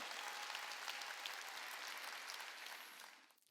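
A church congregation at a Wednesday worship service applauds, a dense wash of clapping held steady at moderate distance before fading out at the end.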